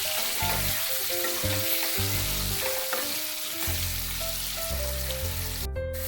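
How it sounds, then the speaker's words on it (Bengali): Potatoes frying in oil with turmeric in a kadai until reddened, a steady bright sizzle with occasional stirring, heard under prominent background music. "দিয়ে আলুটাকে কিছুক্ষণ লাল করে ভেজে নেব।"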